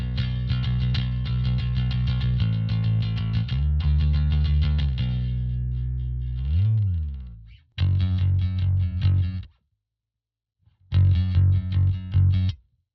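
Bass guitar with a compressor engaged, playing tight, punchy low notes with a slight rasp, a sliding note midway and two short phrases separated by brief silences, close and alone.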